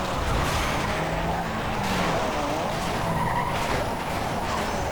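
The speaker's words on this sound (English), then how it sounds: "now we're just drifting this 240SX around, and it's going quite well" Nissan 240SX drifting with tires skidding and squealing continuously, engine roaring underneath, loud and close throughout with no talking.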